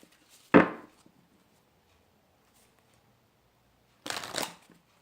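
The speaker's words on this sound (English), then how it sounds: "I always like to do a little bit of shuffling on camera as well" A deck of tarot cards being shuffled indoors: two short, crisp riffling bursts several seconds apart, close and fairly quiet, with near silence between them.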